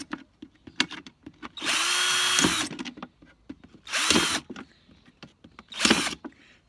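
A power screwdriver drills holes into the bottom of a plastic bottle in three separate bursts: a long whirring run, then two shorter ones, close and loud, with quiet handling clicks and rustles between them.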